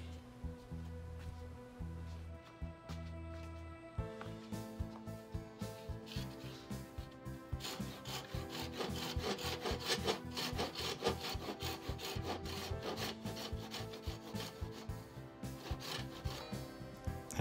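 A Japanese pull saw cuts through wood in steady, rhythmic back-and-forth strokes, close and clear with no voices. The rasping strokes start slow and sparse, then settle into a faster, denser sawing pattern.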